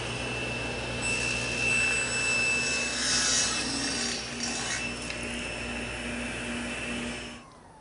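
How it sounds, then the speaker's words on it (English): A saw blade set to 1 1/2 inches makes a test cut in a wood practice piece while small cabinets are being built, with a steady loud grinding rasp that stops abruptly near the end and no talk. "I can take my practice piece and I can do a test cut"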